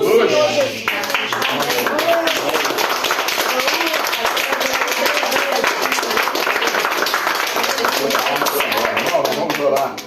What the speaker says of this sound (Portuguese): Maria Luísa, Valentina, todos nós aplaudir o Senhor Jesus.